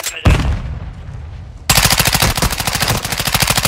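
Loud, close machine gun fire in the shooter game DMZ, a rapid sustained burst of evenly spaced shots after a brief whoosh and a short lull of rumbling background noise.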